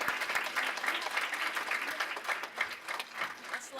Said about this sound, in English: Would you please give a round of applause for her?